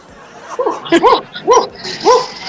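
Three short, sharp barks follow one another at a quick, even pace, close by, with faint background noise between them.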